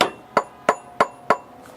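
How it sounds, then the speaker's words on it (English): Five sharp mallet strikes drive a snap ring into place while an A/C clutch is replaced on a Nissan Rogue. The blows are loud, close and evenly spaced, with no talking. "But I just have this mallet right here."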